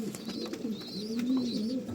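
Hybrid pigeons coo softly in a loft, a few low, throaty rolling calls close by over a faint background hum, with an occasional higher chirp.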